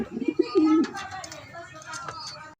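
Pigeons coo nearby: a short run of soft, low, warbling coos at the start, then fainter bird sounds as a voice begins talking.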